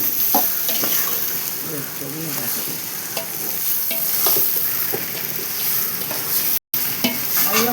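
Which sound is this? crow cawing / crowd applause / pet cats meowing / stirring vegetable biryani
stirring vegetable biryani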